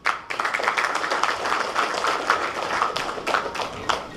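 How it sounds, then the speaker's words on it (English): Applause from the audience at a hotel general managers' club meet as a speaker is welcomed on stage, steady energetic clapping starting abruptly and continuing throughout, fairly close and loud. "with a big round of applause, let's welcome on stage Mr."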